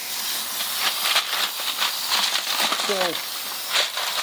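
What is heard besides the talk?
water spray rinsing rocks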